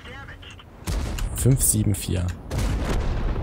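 A tank cannon in World of Tanks, fired from a T34, lets off two heavy booms with a rumbling tail. Someone talks throughout, a short word spoken between the blasts.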